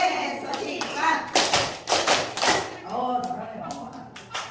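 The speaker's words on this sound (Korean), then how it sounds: "새소식반 박수만 한번 해보겠습니다" Children in a Korean church kids' class clap in rhythmic bursts, sharp hand claps and taps close by, mixed with their voices chanting and an adult leading the group.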